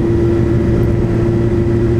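A Suzuki GSR 750 motorcycle cruises along, its engine a continuous, even hum with a firm low tone, close and loud throughout, no one talking.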